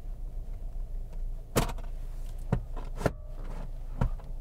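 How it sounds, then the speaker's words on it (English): Electric door mirrors on a 2013 Alfa Romeo Giulietta 1.4 TB MultiAir whir briefly inside the cabin, with several short motor bursts and clicks separated by quiet pauses. "electric door mirrors. Just get those into position before we set off."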